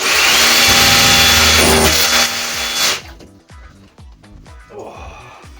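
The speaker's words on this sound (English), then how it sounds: "We've got a 10mm drill bit, gone through the walls." A loud power drill with a 10mm bit boring through a wall whines steadily for about three seconds, then winds down and stops, followed by scattered knocks and rattles.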